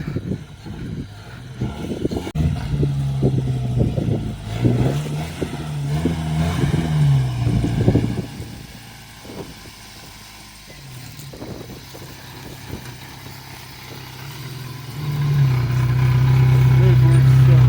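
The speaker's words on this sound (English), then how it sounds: "the 2-liter motor is not too happy" A two-liter car engine running rough idles and revs unevenly, rising and dipping in pitch, with speech over it; the engine swells louder near the end.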